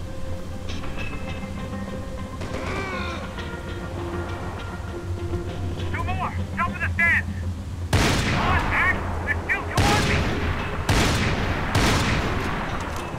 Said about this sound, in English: more people shooting at him